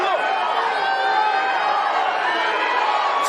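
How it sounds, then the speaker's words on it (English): A Great Falls crowd at a bare knuckle fight chants a fighter's name, a dense, continuous roar of many voices filling the whole stretch, loud and steady. "Chant of Leo from this Great Falls crowd into the clinch."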